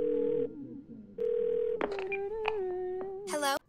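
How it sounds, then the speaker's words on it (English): A telephone in the Twelve Minutes video game gives two sustained dial tones, then a quick series of dialing beeps and electronic tones, ending in a short burst of harsh noise. "Get the phone. Call his daughter."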